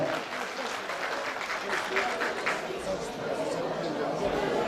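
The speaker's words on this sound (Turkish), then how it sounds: "Ayhan Susuz Bey'i alkışlayalım efendim" An audience claps at a village goose night gathering in Ardahan's Çıldır district, producing soft, somewhat distant applause mixed with crowd chatter and murmuring voices.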